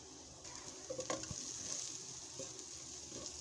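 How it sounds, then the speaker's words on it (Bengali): Ground spices, including meat masala, chili, coriander and turmeric, frying in a pan with oil and being stirred, making a soft, steady sizzle with a few scraping stirs and light clinks. No one speaks. "নাড়াচাড়া করে দিচ্ছি।"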